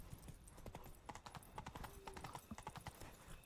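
Hooves of the horse Roach clip-clop at a galloping rhythm in The Witcher video game, a steady run of close, loud hoof beats with faint background game sound.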